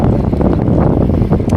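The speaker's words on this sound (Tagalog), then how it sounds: "sobrang hangin, di ko mabilisan kasi malakas yung hangin sobra" Strong wind roars and buffets the microphone outdoors, a loud, constant gusting rush with no voices.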